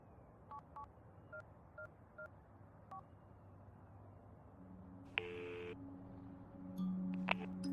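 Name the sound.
telephone number being dialed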